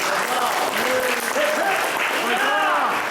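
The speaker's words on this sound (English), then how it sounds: "let's give Mr. King a big applause." Audience at a Camp Constitution talk applauding the speaker, loud sustained clapping with cheering voices and overlapping crowd chatter throughout.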